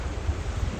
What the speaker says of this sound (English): we're going to go find somewhere where it's less windy and a little warmer